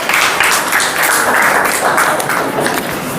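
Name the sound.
classroom audience applause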